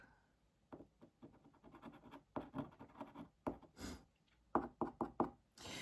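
Charcoal strokes across Canson sand grain paper make rapid, rhythmic scratchy bursts in quick clusters, close and fairly quiet, with brief pauses between runs of strokes.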